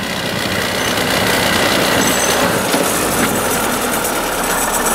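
A homemade tractor with a combine engine and two driven axles revs hard under load as its wheels slip, giving a loud, continuous, rough engine roar with no talking.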